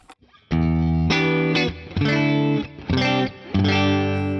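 Distorted electric guitar through a Boss Katana amp's distortion effect, played in several loud sustained chords with short gaps between them, each ringing out alone.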